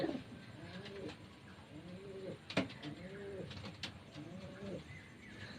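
Domestic pigeons coo in repeated soft, rolling phrases, close by and fairly quiet, with a few sharp clicks in between and no talking.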